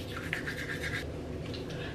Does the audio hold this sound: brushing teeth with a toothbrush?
yes